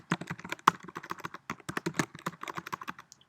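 Rapid clattering keystrokes on a computer keyboard while a Carrd landing page is being built, a steady close run of uneven clicks and taps with no voice over them.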